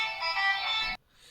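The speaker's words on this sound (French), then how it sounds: "Excusez-moi pour le téléphone." A phone ringtone plays steadily and fairly loud for about a second, then cuts off abruptly, leaving a faint quiet tone, with no talk over it.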